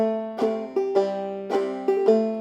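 A clawhammer banjo picks out a short melodic phrase from "Big Rock Candy Mountain", with bright, ringing notes struck in a bouncy, uneven rhythm, each one decaying quickly.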